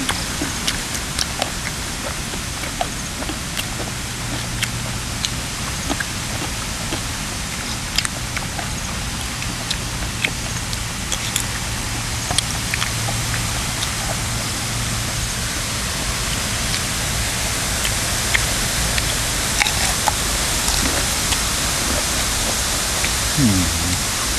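Heavy rain falls steadily outdoors at a rural home, a dense and even wash of noise with scattered drop hits throughout. Faint voices talk underneath it.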